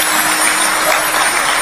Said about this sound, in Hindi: अभी ताली तो दे दो मुझको ठीक से